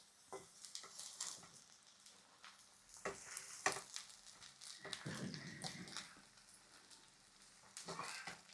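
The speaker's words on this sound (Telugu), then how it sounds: "ఉల్లిపాయ ముక్కలు కూడా వేసేసుకుందామండి ఇది మొత్తం కలుపుకోవాలండి" Onion pieces sizzle and fry in a pan as semiya masala is mixed, with soft oil crackle under repeated scraping and stirring strokes that come in irregular bursts, close and fairly quiet.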